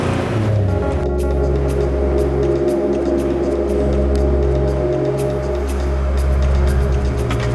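A car being driven, a steady close engine hum with low rumble and road noise throughout, fairly loud and continuous.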